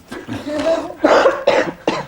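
Several loud, close coughs in quick succession, with a throaty rasp, spaced by brief gaps.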